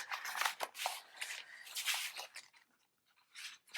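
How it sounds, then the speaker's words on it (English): Giant tarot cards being mixed by hand, bursts of papery rustling and soft slaps in an uneven rhythm, close by with brief pauses. "you can't really shuffle them"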